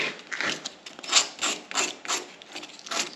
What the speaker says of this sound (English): I gotta take this off though to sand it.